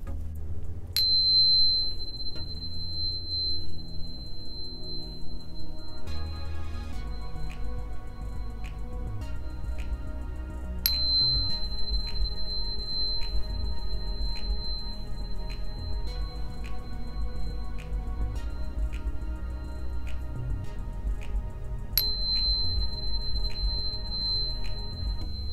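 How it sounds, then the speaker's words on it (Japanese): Tuning fork struck three times for a purification ritual, each strike a clear, sustained high pure tone ringing for several seconds over soft background music. "ここで一度音叉による浄化をしていきたいと思います"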